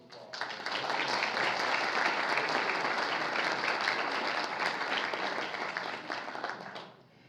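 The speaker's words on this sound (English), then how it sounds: "So let's give Troy a nice round of applause." A church or conference audience gives a speaker a warm round of applause, dense steady clapping from many hands that swells in, holds evenly, then fades out near the end.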